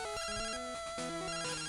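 Chiptune phone ringtone from the Game Boy Color game Pokémon Crystal, a short looping sequence of bright square-wave notes repeating twice, loud and alone with no talk.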